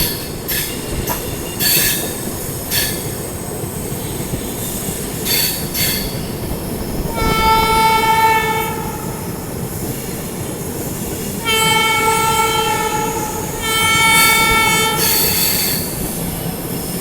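A Bangalore Rajdhani Express train runs at night through Yesvantpur Junction without stopping, with a steady rumble of wheels on track, screeching wheel squeals, and a drawn-out horn sounding twice.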